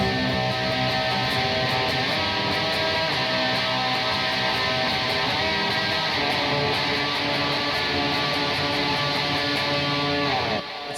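A lush, sustained guitar chord in a custom tuning rings out densely and loudly without break for about eleven seconds, with bright shimmering upper overtones, then cuts off abruptly at the end.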